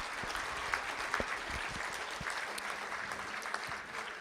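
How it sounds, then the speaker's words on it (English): Steady applause from a crowd at a school board meeting, dense clapping that holds at an even level for a few seconds with no talking. "Let's give Ray a nice round of applause for all the hard work that he has done."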